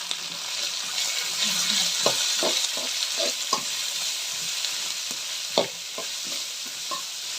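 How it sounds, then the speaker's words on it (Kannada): Onions frying in a pan for avalakki chitranna hiss steadily and close, with scattered scraping taps as they are stirred. "ಇವಾಗ ಈರುಳ್ಳಿ ಚೆನ್ನಾಗಿ ಬೇಯಬೇಕು"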